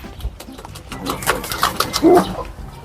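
Male Pakistani pigeons coo a few times in a loft, with soft, throaty calls rising over faint background rustling and some nearby activity.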